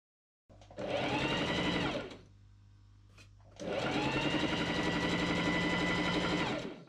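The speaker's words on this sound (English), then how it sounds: "I machine sew gathering stitches along the cuff edge of the sleeve." Sewing machine running gathering stitches along a linen shirt cuff, close and steady, in two runs of about one and a half and three seconds with a short quiet pause between them.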